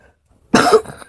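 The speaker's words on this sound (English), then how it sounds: "I have a cough." A single sharp, close cough bursts out loudly after a short silence, followed by a brief rasping tail.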